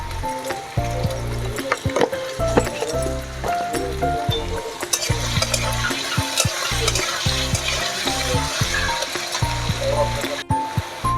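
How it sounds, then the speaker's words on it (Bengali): Potatoes salted and frying in hot oil give off a continuous crackling sizzle with scraping stir strokes, heard close up beneath an intermittent voice. "আলুগুলো প্রায় ভাজা ভাজা হয়ে এসছে"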